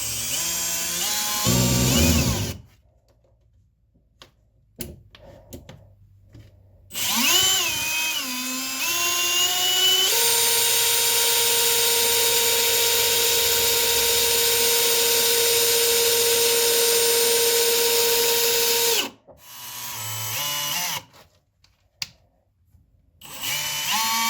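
A Makita power drill drives screws with a T25 bit into wooden stairs being reinforced, giving two long, loud, steady whines that wind down between bursts. Quieter gaps and short handling noises fall between the runs.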